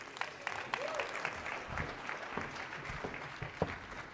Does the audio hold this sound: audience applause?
yes